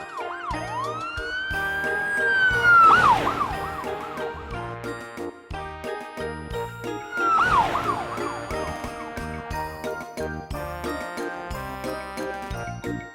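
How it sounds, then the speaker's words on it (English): A police car siren wails twice in rising and falling sweeps, loud and close, over busy jingling background music. "Black. Police car."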